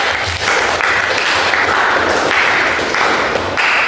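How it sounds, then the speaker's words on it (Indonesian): Classroom of students clapping together on cue during a lesson, a dense steady patter of applause filling the room at close range, with faint thumps underneath. "Oke, tepuk tangan semua"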